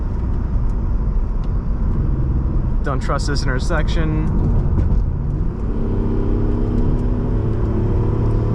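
Engine of a 1992 Mitsubishi 3000GT SL on Goodyear tires, driven on a back road, a steady near rumble running throughout with a brief rise under a spoken remark in the middle.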